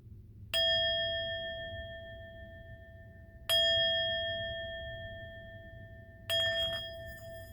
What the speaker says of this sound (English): take a few cleansing breaths as I use my singing bowl